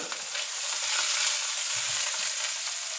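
Meatballs sizzling in hot cooking oil in a pan, a steady, bright frying hiss that swells and holds without any talking.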